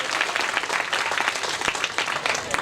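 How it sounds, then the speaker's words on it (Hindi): A school audience at an annual program claps to welcome the teachers, a dense, loud round of applause from a crowd that continues throughout. "आप हमारे इन टीचरों का तालियों से स्वागत करें और इनका इस्तेकबाल करें।"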